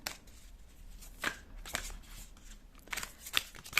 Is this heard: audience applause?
no